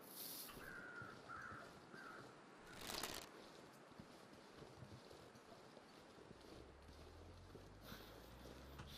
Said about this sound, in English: Trying to figure out where I heard those crows.